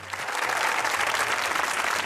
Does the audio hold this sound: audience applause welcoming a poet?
yes